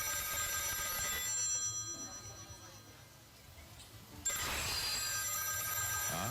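A telephone rings in an indoor scene from a Filipino TV comedy, the tone steady and fairly loud through the clip, dipping briefly in the middle before returning strongly.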